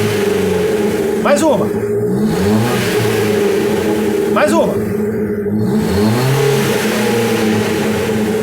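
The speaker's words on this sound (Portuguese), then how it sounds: "Eu vou ligar o carro e a gente vai ouvir o ronco do carro para depois comparar com como é que vai ficar" A Chevrolet Celta engine idles and is revved twice, each surge climbing and falling, while a voice speaks briefly over it.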